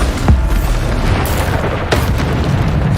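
Two loud, booming blasts from the Bombarda explosion spell in Hogwarts Legacy on PS5, a heavy one at the start and another about a second and a half later over rumbling game sound.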